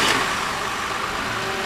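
The engine of a 2007 Toyota Camry runs at a steady idle after an alternator replacement, a close, even mechanical hum throughout the short stretch with no talking.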